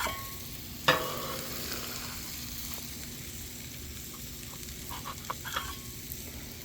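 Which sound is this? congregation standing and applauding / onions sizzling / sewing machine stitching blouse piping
onions sizzling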